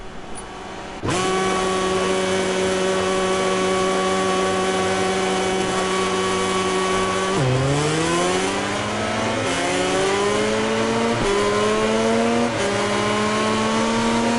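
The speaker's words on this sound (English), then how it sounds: "The light will soon go out and the Le Mans race will begin." Motorcycle engines roaring on the starting grid at Le Mans in MotoGP 19, a loud sustained whine that then climbs in pitch through repeated gear shifts as the bikes launch.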